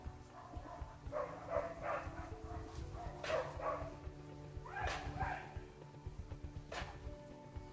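A dog barks several times at a distance outdoors, short bursts spread across the stretch with a steady background hum between them.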